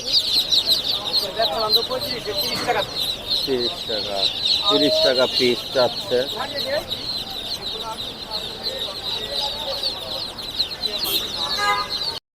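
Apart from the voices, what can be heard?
chickens clucking at a bird market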